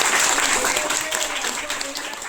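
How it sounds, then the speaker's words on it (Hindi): An audience claps at a sports festival registration launch event, a dense burst of applause under someone speaking loudly over a microphone that tapers off over a couple of seconds. "जोरदार ताली बजाओ दोनों की"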